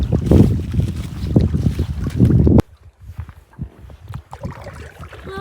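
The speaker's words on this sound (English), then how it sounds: "I'm just paddling through Herb Lake" A boat is paddled across Herb Lake, with soft splashing strokes and water trickling, preceded by a burst of rustling and wind noise close to the microphone.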